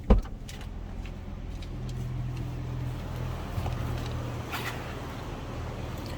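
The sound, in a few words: 2020 Chrysler 300S sedan engine running, heard from cabin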